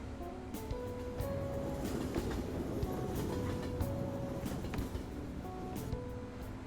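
A subway train in the video game Persona 5 Royal, a steady rumbling roar with rattling and faint metallic squeals and tones, continuous and fairly loud throughout with no voices.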